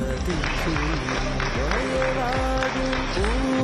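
Audience applause at an Onam celebration in an office park rises over loud festive music with singing, a steady crowd clapping throughout.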